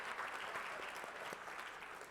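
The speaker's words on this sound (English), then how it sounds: "That deserves an applause." Audience applause at a theater talk show, a brief burst of steady clapping, fairly quiet and distant, with no voices over it.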